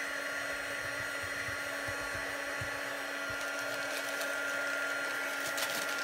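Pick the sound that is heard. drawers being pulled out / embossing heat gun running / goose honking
embossing heat gun running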